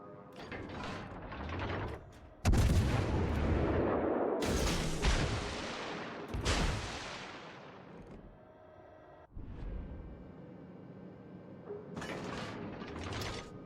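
Ship guns firing in World of Warships Legends, heavy booming salvos in several separate blasts with long decaying rumbles, mixed with mechanical turret clanks and whirs between shots, no voices.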